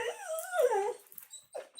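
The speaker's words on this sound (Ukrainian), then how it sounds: "Ох, гавкає." A dog gives a few close, whining yelps that rise and fall in pitch, with short gaps of near silence between them.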